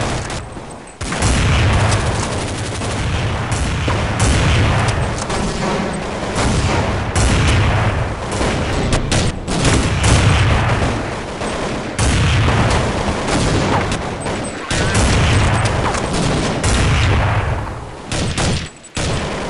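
Repeated loud gunfire from the AWP sniper rifle in Counter-Strike 1.6, dense booming shots nearly continuous across the stretch with brief pauses and a sharp drop near the end.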